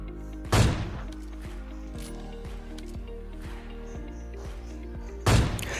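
Gunfire from a Groza rifle in the video game PUBG Mobile comes as two loud sharp bursts several seconds apart. Faint mechanical clicking and ticking fill the gap between them.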